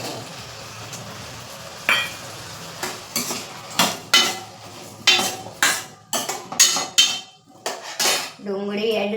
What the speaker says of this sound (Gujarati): હવે હું એમાં ડુંગળી એડ કરી લઈશ